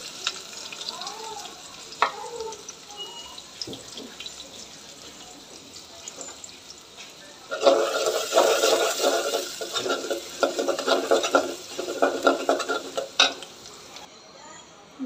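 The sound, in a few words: sizzling tempering of garlic and onion for dal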